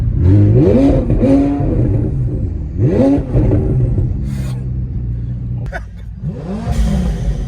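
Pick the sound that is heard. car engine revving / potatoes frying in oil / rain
car engine revving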